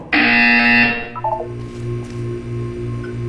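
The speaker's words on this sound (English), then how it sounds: "When you hear the buzzer, look down at the floor." A loud electronic buzzer tone in Portal 2 sounds once, cuts off, followed by brief beeps and a low pulsing hum underneath.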